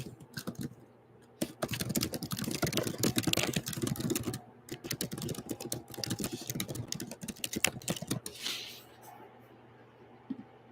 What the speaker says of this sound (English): I didn't mean to be Gabby Hannah typing